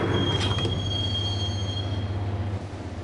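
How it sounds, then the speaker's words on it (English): Train wheels squeal and rumble along the tracks in the Max Payne video game, a loud steady low drone with a sustained high metallic whine, fading slightly at the end. "the train doors had already shut behind me, and I was in for the ride"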